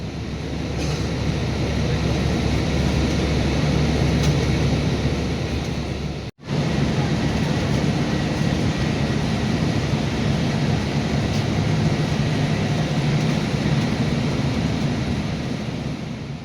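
Steady engine and road rumble inside an airport shuttle bus at Sharjah airport, a constant broadband drone with a brief cut partway through, no talking.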